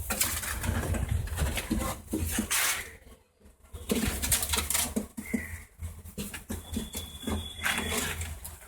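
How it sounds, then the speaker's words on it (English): Homing and show pigeons coo softly in a loft, a steady low murmur with patter of wings and movement, briefly dropping quiet in the middle before resuming. "These are my show pigeons."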